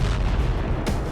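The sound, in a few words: TOS-1A thermobaric rocket system firing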